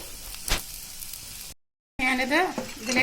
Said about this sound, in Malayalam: നന്നായി ഒന്ന് ബ്രൗൺ കളറാണ് വരെ വറുത്തെടുക്കാം.